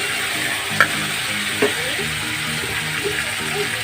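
Mutton for a Bengali mutton jhol sautéed on a low flame: a steady, close sizzle with soft stirring scrapes and a few brief clinks against the pan.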